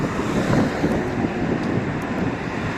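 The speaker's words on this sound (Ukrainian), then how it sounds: "вітер такий" Steady, loud wind buffeting outdoors, a broad continuous rush with low rumble and no pauses.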